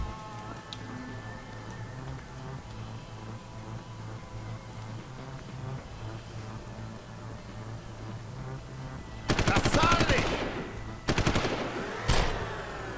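Gunfire in the video game Deus Ex: Human Revolution: a soft ticking rhythm over a game hum, then two loud bursts of rapid automatic fire near the end, with no talking.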